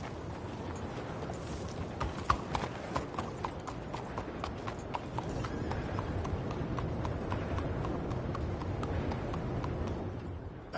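A horse's hooves clip-clop at a steady walking rhythm in Red Dead Redemption 2, near and moderately loud over a low ambient rumble.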